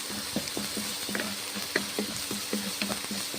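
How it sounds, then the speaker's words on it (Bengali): Spices sizzle in mustard oil in a pan while being stirred, a steady close hiss broken by regular scraping clicks of the spoon against the pan, with no voices. "তারপর মশলা ভেজে নিচ্ছি, কষে নিচ্ছি মশলাটা"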